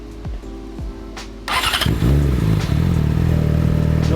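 A Yamaha R6 motorcycle fitted with an SC Project exhaust and Akrapovič header cranks and fires up, settling into a loud, steady, throbbing idle after a short whir of the starter.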